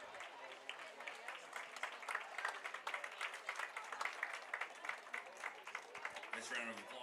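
Spectators at a high school football game clap steadily as an injured player leaves the field. The applause is moderately distant, and a voice talks over it now and then.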